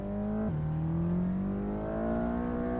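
A Mercedes engine in Assetto Corsa revs steadily and loudly, its pitch dipping briefly after a shift and then climbing smoothly under sustained throttle, with no talk over it.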